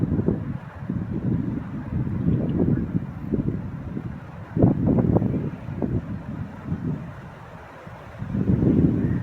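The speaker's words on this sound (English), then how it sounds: "Now the wind's coming from the southwest." Wind blows outdoors in gusts, rumbling low and buffeting against the microphone, rising and falling in strength throughout, on a southwest wind near distant wildfires.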